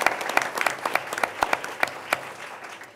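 Audience at a community meeting applauding, a steady wash of many hands clapping with a few sharper individual claps standing out, fairly close and sustained throughout.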